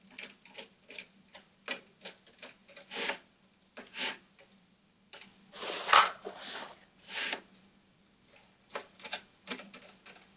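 Repeated screwdriver turns and scraping taps while wiring a PLC training kit, coming in short irregular bursts close by with brief pauses between them. One sharper, louder rasp stands out near the middle.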